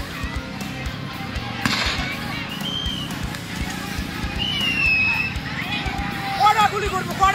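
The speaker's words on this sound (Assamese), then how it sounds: "গুলি চালনা কৰি আছে আমাক গাঁৱৰ পৰা দাউৰি দাউৰি ওলাই দি আছে" Police firing shots at villagers, with a few sharp, distant bangs and pops scattered through a continuous background of crowd commotion, shouting voices and whistling.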